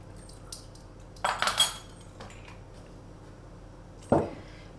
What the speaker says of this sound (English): You want to give it a bit of a stir because the maple syrup's quite thick and it sinks to the bottom